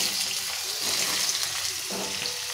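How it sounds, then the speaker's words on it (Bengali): Vegetables with five-spice seeds fry in a pan, giving a continuous close sizzling hiss with a faint, uneven sputter underneath throughout. "ভালো করে ভেজে নিচ্ছি।"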